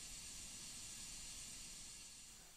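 A vintage Svea 14 stove fitted with a silent burner simmers with a steady, even hiss, close and unbroken, fading slightly at the end.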